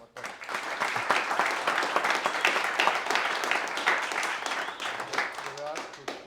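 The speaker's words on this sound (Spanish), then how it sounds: "yo sí le quisiera agradecer muchísimo a Daniel, un aplauso." An audience breaks into applause, a dense and steady clapping from a group that lasts several seconds and trails off, with a voice starting up toward the end.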